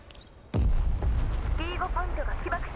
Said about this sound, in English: Explosion confirmed, enemy casualties confirmed.